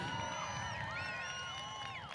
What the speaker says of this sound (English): Give us a bit of a yell for Selena.